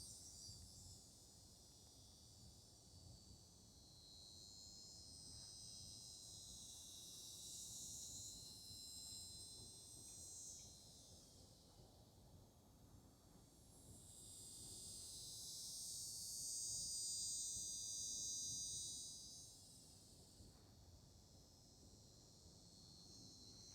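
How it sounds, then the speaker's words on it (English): Shrill buzzing of cicadas in Florida swells and fades in slow waves, faint and distant, over a quiet outdoor background. "Cicadas in Florida."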